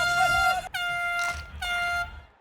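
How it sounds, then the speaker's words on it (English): An air horn blown on an NFL practice field to end a practice period, loud and sustained, sounding in three close blasts with short breaks between them. "I will raise the horn over my head and I'll blow it. Makes a loud noise."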